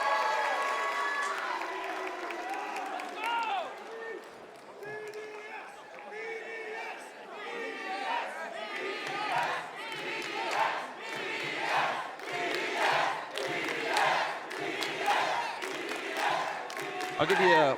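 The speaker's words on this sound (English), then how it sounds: "BDS certainly getting the ovation from the crowd" A large arena crowd at a Rainbow Six Siege esports grand final roars, cheers and applauds continuously, a dense wash of voices and clapping with a commentator talking over it.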